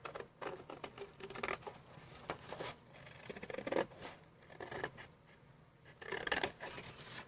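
Scissors snipping through paper while trimming a scrappy book cover slightly larger, a series of close, irregular crisp cuts and rustles with brief pauses between strokes.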